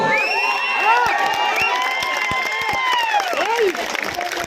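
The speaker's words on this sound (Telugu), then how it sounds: "ఈ మీ రెండు చేతుల ఎత్తి చప్పట్లు కొట్టి ఈ వ్యక్తిని మీరు ఆదరిస్తున్నారు" A rally crowd claps and cheers loudly and continuously, with whoops and shouting voices mixed into a dense wash of applause.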